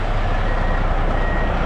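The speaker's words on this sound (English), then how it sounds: "Those are trucks, by the way" Trucks back up nearby, their reversing beeps sounding loud and steady over a heavy engine rumble, with no one speaking.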